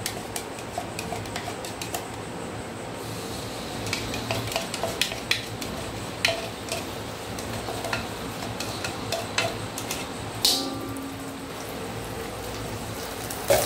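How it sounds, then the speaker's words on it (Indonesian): Dry tempe orek seasoning being sautéed in a pan, with a spatula repeatedly scraping and clinking against the metal over a faint, steady sizzle; no one speaks. "Ini bumbu orek keringnya udah jadi. Mau aku tumis dulu."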